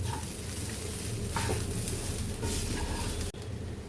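Cluster beans and dal for paruppu usili sauté in a pan with a constant close sizzle, stirred with occasional scraping passes and a single sharp knock near the end.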